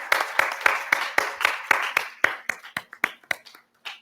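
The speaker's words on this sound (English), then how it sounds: "Can we give a round of applause for them for the amazing panel?" Sparse applause from a small audience follows a panel session on indie games in Southeast Asia, with distinct hand claps in an uneven rhythm that thin out and fade toward the end.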